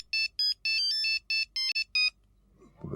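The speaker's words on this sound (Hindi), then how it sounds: "अच्छा आप चिंता मत करिए, हम फोन करके देखते हैं उसको" A phone rings with a bright electronic ringtone while a call is placed, a run of eight short repeating melodic bursts, loud and close, followed by a faint rustle once the ringing stops.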